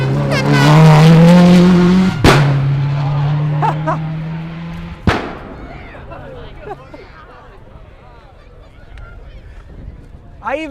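A rally car roars past on a forest stage at the 100 Acre Wood Rally, its engine tone rising then falling. It is followed by sharp anti-lag bangs and pops, with crackling as it fades away.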